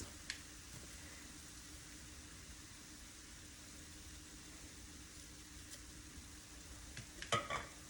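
Ground taco meat with packet taco seasoning and ranch seasoning being stirred in a pan, with a steady soft scraping and a low sizzle throughout, ending in a brief louder clatter of the spoon near the end.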